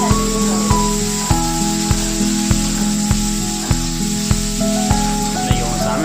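Tomatoes fry in a pan for chutney, giving a steady sizzling hiss throughout, with an evenly spaced series of soft clicks and a low background hum running under it.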